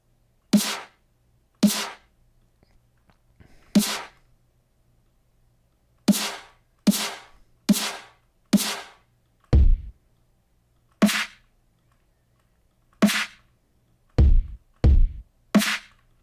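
A synthesized snare drum fires as a series of sharp, isolated hits spaced irregularly with silence between, some strikes carrying a deeper booming low end, dry and close.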